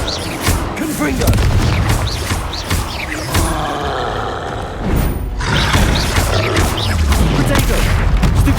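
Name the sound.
Confringo blast spell exploding in video game Hogwarts Legacy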